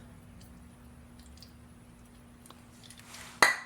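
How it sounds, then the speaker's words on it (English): A short hissing burst of Liquid Wrench penetrating oil sprayed onto a seized A/C compressor coil part on a 2007 Mitsubishi Outlander, coming suddenly near the end after a quiet stretch with a faint background hum. "if I shoot it down with some, you know, some liquid wrench or PB blaster or something, it might help the process"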